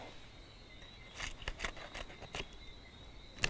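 Scissors snip through a pressed, dried banana leaf in a few short, crisp cuts with small pauses, close and quiet against a faint background hiss.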